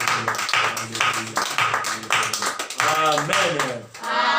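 A church congregation at the Redeemed Church of God claps in acclamation, sharp rhythmic handclaps beating under loud voices.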